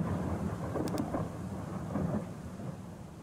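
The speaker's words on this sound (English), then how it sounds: "Ooh, it's raining on Sunday." Rain and rumbling thunder in the game Rot In Paradise, a steady wash of rainfall with low thunder swelling underneath, fairly quiet and with no voices.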